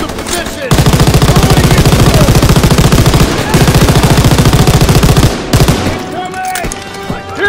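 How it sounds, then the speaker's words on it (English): Loud, rapid machine gun bursts in the video game Call of Duty: WWII rattle close by in long sustained volleys, pausing briefly, then tapering off into scattered shots and battle noise. "Someone get on the MG!"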